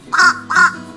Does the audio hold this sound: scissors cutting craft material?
no